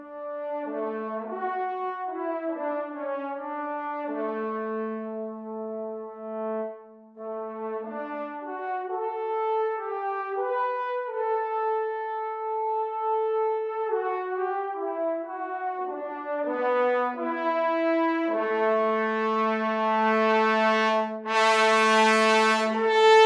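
Trombones from a brass sample library play sustained, roaring fortissimo chords in slowly shifting harmony. Each chord is loud and full, and the passage swells to a brighter, harsher blast at the end with no talking.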